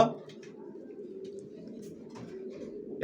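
Racing pigeons coo softly and steadily at close range, a continuous low murmur with a few faint clicks and rustles.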